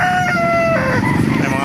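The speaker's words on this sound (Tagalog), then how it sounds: "Iba't ibang klaseng manok na makikita rito sa Baliwag" A rooster crows loudly and close at a pet market in Baliuag, Philippines, a long strained call over a busy background of clucking chickens.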